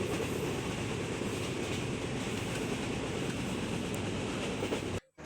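Passenger train running on rails near Jessore railway station, a steady loud rumble and rattle of carriages throughout, cutting off abruptly near the end.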